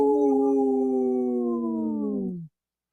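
A long human howl imitating a wolf, sustained and slowly falling in pitch, loud and close, stopping abruptly after about two and a half seconds, heard on a radio broadcast.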